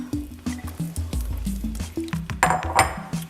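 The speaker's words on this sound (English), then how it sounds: "Now we're gonna add our ground beef." Ground beef goes into a pot for a traditional bolognese and is worked around. Close, rhythmic squishing and soft clinking of utensil against pan repeat several times a second, and no one speaks.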